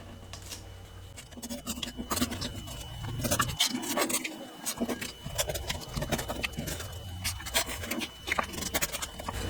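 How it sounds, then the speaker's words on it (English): Fabric is scrubbed off a sticky cutting mat with close, dry rubbing and scratching strokes that run continuously and unevenly, with a short quieter pause partway through. "when you take these off the mat, if your mat is fairly sticky, you want to kind of scrub like that"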